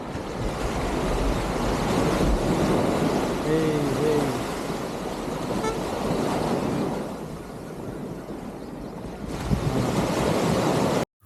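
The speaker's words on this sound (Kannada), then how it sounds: "ಅಲೆಗಳ ಅಪ್ಪಳದ ಜೊತೆ ಹಾಗೇನೆ ಸ್ವಲ್ಪ ಬೀಚಲ್ಲಿ ವಾಕ್ ಮಾಡಿದ್ವಿ" Ocean waves wash onto a beach at Pondicherry in a steady, loud roar of surf mixed with wind buffeting the microphone, and faint voices drift in the background.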